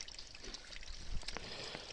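Water trickles quietly at a trail water source on the Appalachian Trail, a faint, continuous soft dribble with small intermittent splashes.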